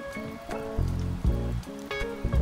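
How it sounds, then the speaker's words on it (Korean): Heavy rain falls on a gravel campsite in early May, a steady close patter with a few louder drips and splashes. Nobody talks. "비가 많이 오니 얼른 세팅하고 쉬어야겠어요."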